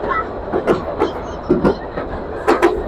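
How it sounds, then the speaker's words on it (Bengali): Passenger train running at speed between Burimari and Bogura in Bangladesh, heard from aboard: a rhythmic clatter of wheel clacks at a steady pace over a rumbling background. "আর আমাদের ট্রেন ভালো একটা স্পিড নিয়ে যাচ্ছে এখন।"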